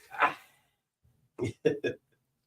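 A dog barks once, pauses, then gives three short, close barks in quick succession, with silence between.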